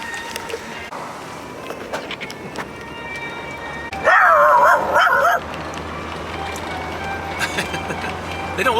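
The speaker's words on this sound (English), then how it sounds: "They don't look like honey dogs or anything, but they're loud." Loud barking from dogs near a road, a burst of several rapid barks standing out over a steady background rumble, with quieter noise before and after.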